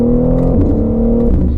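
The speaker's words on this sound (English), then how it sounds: "the exhaust note" A BMW G80 M3 Competition xDrive with a 525-horsepower turbocharged engine at 18 PSI drones loud and close, a steady deep exhaust note holding one tone, then dipping and rising again.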